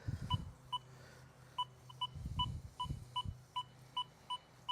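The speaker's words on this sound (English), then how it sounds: "So when you come along and you hit a coin signal, you should be able to hear it." A Deus 2 metal detector running a beta coin setup gives short, evenly spaced beeping signal tones over a coin, faint and repeated about a dozen times, with low handling rumble and brief noises between beeps.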